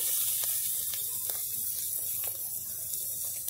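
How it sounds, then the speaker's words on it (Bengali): Lemon juice added to kharkol leaves frying in a pan at home: a steady, even sizzle and hiss throughout with faint intermittent ticks, close and moderately quiet, with no talk. "আমি নামানোর আগে এবার একটুখানি লেবুর রস দিয়ে দিচ্ছি"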